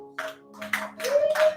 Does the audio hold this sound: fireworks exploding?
no